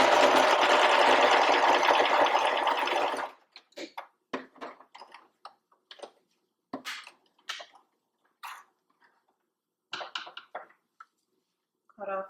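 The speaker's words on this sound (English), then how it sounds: "Stitch your elastic again." A sewing machine stitches elastic onto a cloth diaper in one steady, loud, close run lasting a few seconds, followed by scattered clicks and handling noises of fabric and thread.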